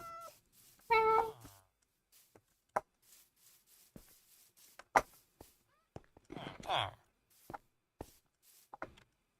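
A cat meows several times in short, clear calls amid sparse clicks and taps, with a voice briefly speaking in between, in Minecraft.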